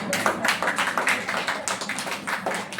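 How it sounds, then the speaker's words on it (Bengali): An audience gives steady, dense clapping for a sister whose dish everyone ate at a fireless cooking competition in Durgapur. The applause is close, continuous and fairly loud with no voices over it. "দিদির খাবারটা সবাই খেয়েছে তাই তো দিদির জন্য হাততালি"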